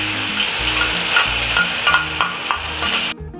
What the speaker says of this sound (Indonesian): kita mau tumis dia punya cabenya dulu ya. Ini aku kasih minyak sedikit